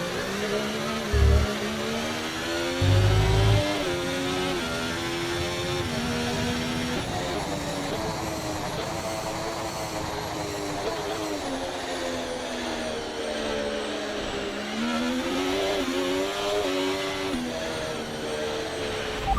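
Formula 1 car engine in the F1 24 game, droning steadily at high revs with rising and falling pitch sweeps through a race start, loud and continuous with a couple of brief thumps early on.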